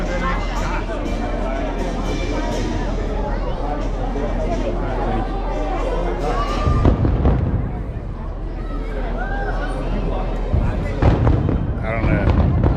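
July 3rd fireworks at Disney's Contemporary Resort, seen near the Guardians of the Galaxy area, thump and crackle with deep booms and popping bursts amid a chattering crowd and steady background noise.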